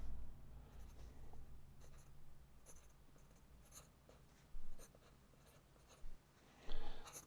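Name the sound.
writing on a rocket fin template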